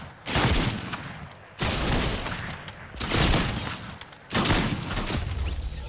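Four loud shotgun blasts in Fortnite, each a sharp crack trailing into a decaying rumble and spaced about a second and a half apart, with no talk.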